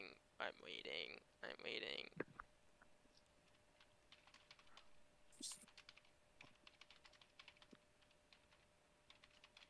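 Computer keyboard typing during a sim-racing league broadcast, rapid scattered key clicks at a moderate level following a burst of talk at the start.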